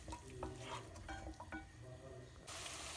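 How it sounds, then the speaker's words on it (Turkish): Onions sizzle softly in olive oil in a pan while a utensil stirs and scrapes against the pan, with a louder hiss near the end. "biraz zeytinyağıyla önce soğanlarımızı güzelce bir soteleyeceğiz"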